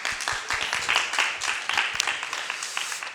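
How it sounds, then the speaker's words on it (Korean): A church congregation applauds in a steady, dense burst of clapping that fills the room, moderately loud and without pause, welcoming visiting missionaries during a Sunday service. "박수로 우리 환영하겠습니다."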